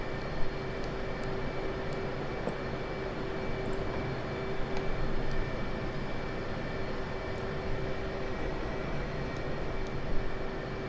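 Aircraft taxiing in the DCS flight simulator, a faint steady engine drone with a thin whine held throughout and occasional small clicks, no voices.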